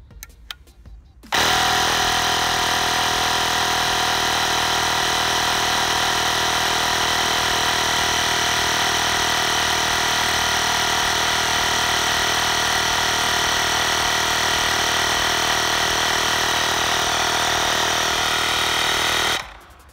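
A Superpow portable tyre inflator pumping up a car tyre starts abruptly, running as a loud, steady, buzzing mechanical drone for about eighteen seconds before cutting off.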